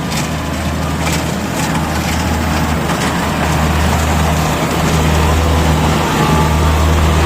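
A rice combine harvester runs steadily in a field, its loud engine droning without a break and layered with mechanical rattling and clatter, with no voices over it.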